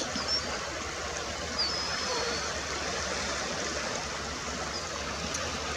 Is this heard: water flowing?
yes